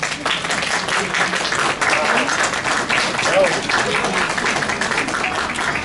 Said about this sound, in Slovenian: Gospe in gospodje, zaploskajmo nocojšnji gostiteljici